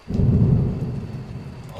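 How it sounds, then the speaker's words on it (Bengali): Heavy rain pours steadily while a deep, loud roll of thunder rumbles close by, easing slightly toward the end. "একটু পর বাতাসের সাথে শুরু হলো বৃষ্টি।"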